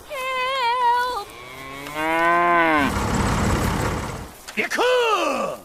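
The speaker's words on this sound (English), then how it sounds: "The cow is giving birth right now." A cow giving birth on a farm, lowing in several long, loud moos, some drawn out and groaning, with short pauses between them.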